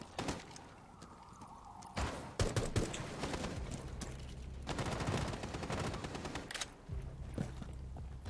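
Gunfire in the tactical shooter Rainbow Six Siege, with bursts of rapid shots and sharp cracks that break out after a quieter stretch and continue loudly through most of the round, alongside other game noise.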